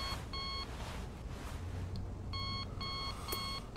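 An alarm clock rings in the video game The Library: AR-K, sounding repeated bursts of clear electronic beeps: a short pattern near the start, a gap, then several rapid groups toward the end, alone and fairly prominent.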